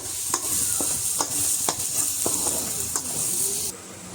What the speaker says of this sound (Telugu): కొద్దిగా ఫ్రై అయ్యండి అయిన తర్వాత ఇందులోకి చిటికెడు పసుపునైతే తీసుకొని మళ్ళీ ఫ్రై అయితే చేసుకుందాం